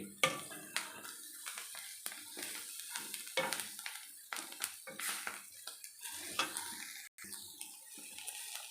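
Gram flour bajji curry fries in a pan, a continuous soft sizzle broken by frequent scraping and clinking of a spoon against the metal, close and without talk.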